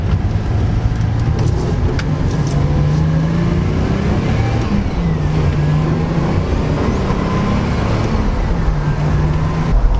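A 1970s Toyota Crown Coupe drives along a road, heard from inside the cabin as a steady engine drone with constant tyre and road rumble and slight shifts in engine pitch.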